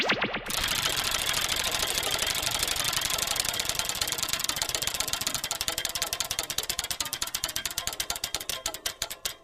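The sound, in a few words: loser wheel spinning in You Don't Know Jack video game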